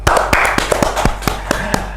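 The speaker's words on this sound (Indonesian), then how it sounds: "tepuk tangan untuk Mr. Puisi teman-teman" A small group applauds a guest at the close of a political talk show, a quick run of sharp, separate claps from a few people, close and uneven.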